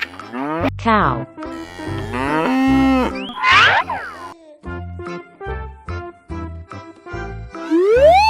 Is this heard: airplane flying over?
no